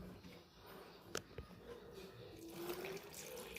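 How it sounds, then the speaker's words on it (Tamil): Water pours from a tap into a protein shaker bottle, a faint, close trickle that grows steadily louder and brighter as the bottle fills. "தண்ணியை கலக்குவோம்."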